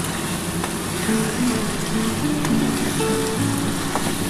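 Spice paste for aloo dum sizzles with tomato in a pan, a loud continuous frying hiss, with faint thin tones running underneath.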